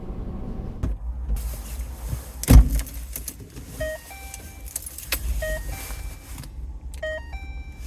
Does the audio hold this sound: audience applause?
no